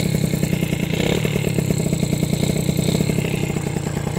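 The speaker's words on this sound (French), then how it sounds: "le moteur il est froid, mais il commence à être un peu chaud déjà" A cold motorcycle engine, tuned rich and still warming up, idles loudly and steadily up close with a rapid even clatter throughout, no speech.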